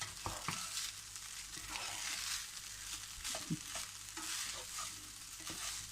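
Egg fried rice being stirred and tossed in a hot pan, a continuous bright sizzle broken by repeated scraping and clinking of the spatula against the pan, close up.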